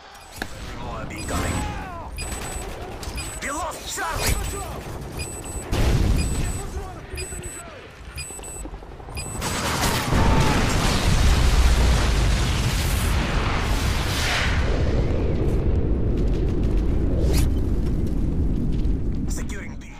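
In Modern Warfare 3, a massive MOAB blast erupts into a long, roaring rumble that fills the mix for several seconds, following earlier scattered in-game pops and gunfire.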